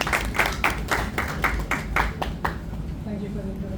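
Rapid clapping from a crowd for a few seconds, fading out as a voice begins speaking.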